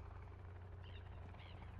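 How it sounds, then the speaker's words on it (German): Helicopter in the survival game Sons of the Forest, a faint, steady low rotor thrum hanging overhead throughout, with a couple of soft bird chirps above it and no voices. "Hubschrauber über uns."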